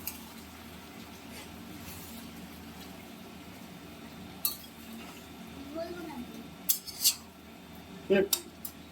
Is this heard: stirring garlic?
yes